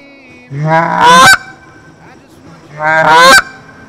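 Two loud, close Canada goose honk calls imitated on a hunting call, each rising through a short drawn-out note into a sharp, cracking break, separated by about a second of quiet.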